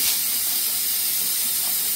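A pressure cooker vents steam in a home kitchen during lunch prep, a steady loud high hiss lasting the whole moment without pause, with no voices over it.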